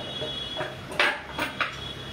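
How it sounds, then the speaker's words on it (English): Fafda being stirred into a thick gravy in a pot: a few sharp spoon-on-metal clinks and scrapes over a low, steady kitchen background, close by and fairly quiet. "Just give it a mix."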